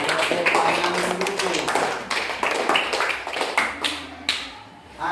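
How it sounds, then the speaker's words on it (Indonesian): A classroom of students clapping hands in irregular bursts, fairly close and loud, with sharp individual claps that trail off toward the end and a voice heard speaking among them. "Nah, tepuk tangan dulu"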